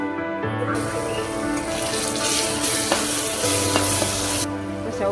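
Spices, garlic chutney and chili powder sizzling in a hot pan for Kathiyawadi ringan oro, a dense continuous loud sizzle and crackle close by, with no talking.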